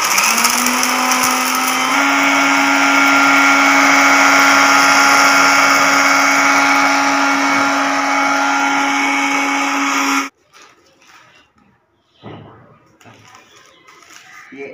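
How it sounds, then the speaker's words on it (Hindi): An electric grinder whirs loudly and steadily as it grinds ajwain and other spices for a special clay mix used for a black francolin, a high hum climbing slightly before cutting off abruptly, followed by faint handling noises and quiet shuffling. "तो इसको हम डालते हैं ग्राइंडर में"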